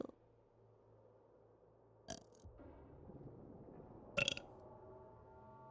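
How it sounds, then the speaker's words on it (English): Two short burps, the second louder, stand out from a low ambient hum while playing Cyberpunk 2077. "you can hear my burps"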